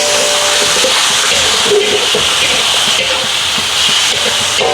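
Cabbage and carrots stir-fry in hot oil, producing a loud, steady sizzle and hiss that holds throughout.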